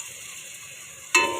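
Garlic, ginger and green chili paste fries in a pan for a chicken roast pulao, giving a soft steady sizzle that jumps to a louder, sharper hiss near the end.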